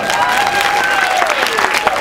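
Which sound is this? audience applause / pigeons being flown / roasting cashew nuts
audience applause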